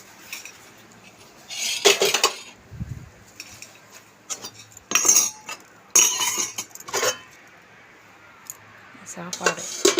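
Dishes, pots and cutlery being washed at home, with repeated clinks and clatters of metal and crockery in irregular bursts, close and fairly loud, separated by quieter running-water stretches.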